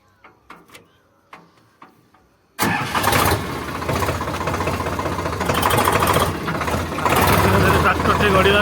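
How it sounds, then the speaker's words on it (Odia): A tractor engine catches abruptly after a few faint clicks and knocks, then runs loud and steady with a rough, throbbing idle that swells slightly toward the end. "ଟ୍ରାକ୍ଟରଟିକୁ ଷ୍ଟାର୍ଟ କରିବା।"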